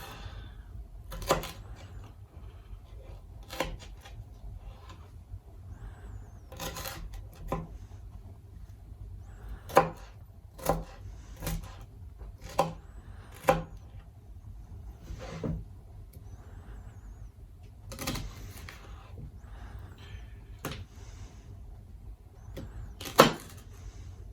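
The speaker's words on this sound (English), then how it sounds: "And then just chop it up." A knife chops a deseeded vegetable on a board in a cabin kitchen, sharp isolated knocks landing irregularly, sometimes in short bursts of two or three, against a quiet background.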